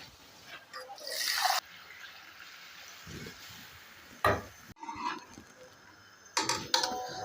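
Water from a glass is poured into mutton karahi in a wok-style pan, short splashy bursts with pauses between, accompanied by faint clinks and handling noises, no talking.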